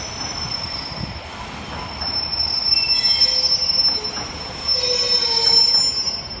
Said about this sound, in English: Sounds like the 621, guys, is sounds like it's got some flat wheels.